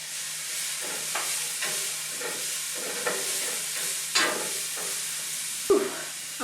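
Onions softening in a pan for a broccoli and tofu stir fry give off a steady, moderate sizzle with scattered crackles and a few louder pops, heard close with no voices.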